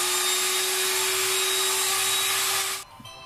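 An electric hand mixer beats chocolate cake batter in a bowl, a steady loud whir holding for nearly three seconds before cutting off abruptly, leaving quiet clinks.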